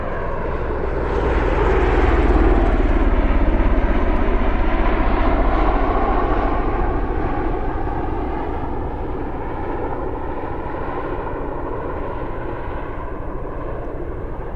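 A V-22 Osprey tiltrotor aircraft flying near Mildenhall, a loud continuous droning engine and rotor roar that peaks and slowly fades, heard alone.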